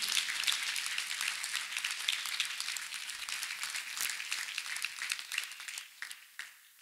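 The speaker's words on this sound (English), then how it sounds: "Let us clap for Master Jesus once again." A church congregation claps together in a lively, continuous burst of dense clapping that thins and fades out in the last second.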